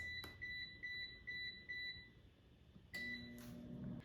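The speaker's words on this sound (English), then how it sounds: "Now the air fryer is done cooking" An air fryer signals the end of cooking with a run of short, evenly spaced electronic beeps, then a second brief burst after a pause, faint against a quiet kitchen hum.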